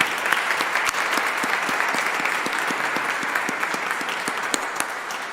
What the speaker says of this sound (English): Would you join me in giving them a round of applause to say thank you for giving the gift of music?